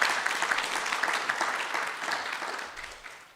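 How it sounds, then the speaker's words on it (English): Audience applause after a talk on sacred science at a Won Buddhism gathering: a steady, dense wash of many hands clapping, fairly close and even, tapering off slightly toward the end. "let's give her a big round of applause one more time for your wonderful talk"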